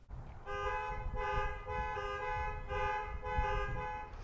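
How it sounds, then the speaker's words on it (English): A car horn honks over and over in a regular pulsing pattern, a loud panic-alarm blare repeating about every second. "you can trip your panic alarm"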